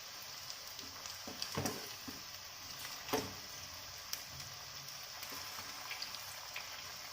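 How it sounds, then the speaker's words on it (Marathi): Sabudana vada deep frying in oil over a low flame, a steady soft sizzle with a few louder crackles and bubbling bursts, no talk. "गोल्डन ब्राऊन होईपर्यंत तळून घ्यायचे आहेत छान क्रिस्पी होईपर्यंत"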